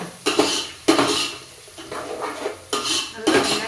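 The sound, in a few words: stirring and sautéing onions in a pan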